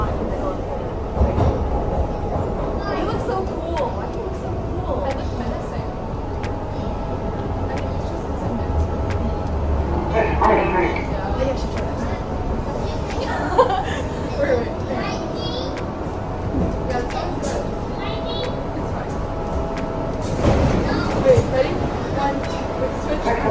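A New York City subway train rumbles and rattles steadily along the tracks, with clacking and squealing bursts, while people talk nearby inside a fairly empty car.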